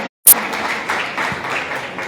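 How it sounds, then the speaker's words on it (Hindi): Audience applause at a Hindi-language award and felicitation ceremony, a dense, steady wash of clapping that begins abruptly after a brief silence and continues evenly with no voices over it. "जोरदार तालियां साक्षी शर्मा के लिए।"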